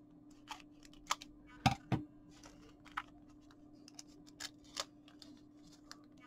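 Scissors snipping open a Japanese Pokémon TCG promo card pack, a few faint crisp cuts, with two louder close snips near the middle and light ticking between them, no talk.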